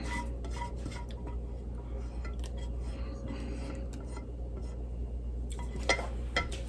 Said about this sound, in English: Now let's give this a little mix.